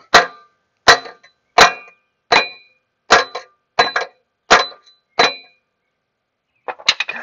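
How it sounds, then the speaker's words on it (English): A hammer strikes a socket onto a stripped exhaust flange nut in a garage, eight sharp metallic clangs at roughly even intervals, close and loud, followed after a pause by a few quicker, lighter knocks. "we need to take a hammer and bang it on so it really grips"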